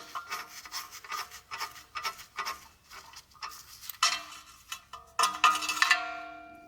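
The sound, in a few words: removing ABS sensor bolt on Tesla Model 3/Y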